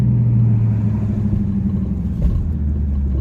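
Dodge Charger SRT8 with a Corsa Extreme intake, loud low exhaust rumble and burble from a cruising engine, steady and close with a slight rise near the end.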